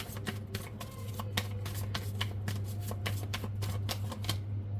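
Tarot cards are shuffled in quick, crisp riffling bursts at close range, a rapid run of papery snaps over a steady low background hum.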